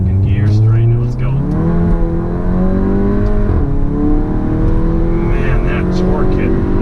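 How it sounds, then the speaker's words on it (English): A DSG-tuned car pulling hard in second gear, engine note loud and steadily rising under full acceleration, heard from inside the cabin with a voice speaking over it. "so let's go second gear pull here"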